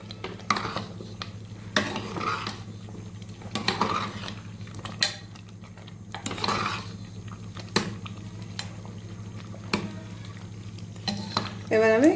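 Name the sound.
stirring chicken khichdi after adding coriander leaves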